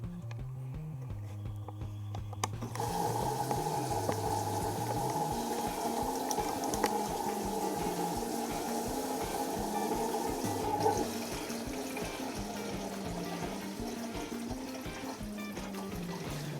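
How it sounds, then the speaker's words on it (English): A Beko washing machine fills with water, a steady rushing flow that starts after a short quiet moment and runs on at an even, moderately loud level alongside a low mechanical hum. "it should continue now filling up with water"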